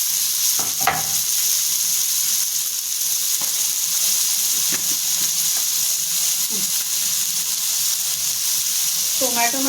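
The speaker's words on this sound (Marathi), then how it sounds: "इथे मी तव्यामध्ये टोमॅटो टाकून घेते ते पण आपल्याला भाजून घ्यायचं" Tomatoes roast with steady, loud sizzling on a hot griddle, with a few faint clinks and scrapes now and then.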